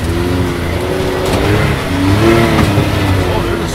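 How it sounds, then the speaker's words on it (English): A Can-Am Maverick X3 side-by-side engine revs and surges on an off-road trail through a ravine, loud and close, with a voice talking over it. "Blazing in the X3 here."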